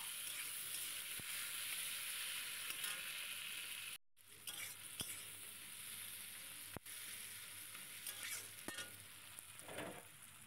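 Tomatoes sizzle and spit in hot oil while being stirred for a Bengali chicken curry, a steady close frying hiss broken by a brief cut and sharp scrapes of the spoon against the pan.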